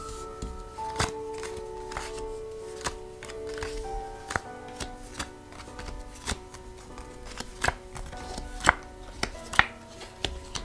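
Tarot cards being shuffled by hand during a reading, a run of sharp crisp flicks and taps at close range, sparse at first and then denser toward the end, with a low steady hum underneath.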